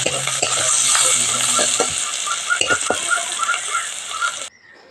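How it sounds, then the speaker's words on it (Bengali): Chopped onion hits hot oil with a fierce, close sizzle and scattered crackling pops; the hiss carries on briskly, then cuts off abruptly near the end. "তেলগুলোর মধ্যে আমি পেঁয়াজ কুচনো দিয়ে দেব"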